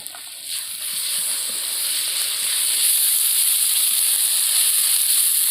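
Spices and chilli powder sizzle steadily in a hot frying pan, a continuous bright hiss that builds slightly and stays loud and close throughout, with no voices.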